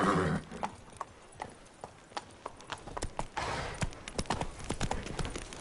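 Horse hooves clip-clop at a steady riding pace, close and clear, over a soft background with a brief neigh near the start.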